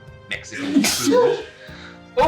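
A big, sharp sneeze bursts out from a person in a home kitchen, with talk before and after it.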